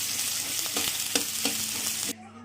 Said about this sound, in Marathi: नंतर कांदा टाकून घेणार आहे, ते लाल भडकतर भाजून घेणार आहे।